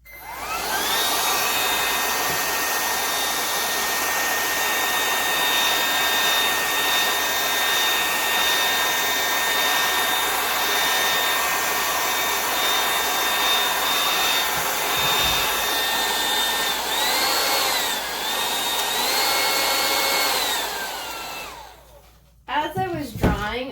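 A hair dryer blows on a painted canvas sky during a beach painting, a loud, steady, close whir that runs for about twenty seconds before cutting off near the end.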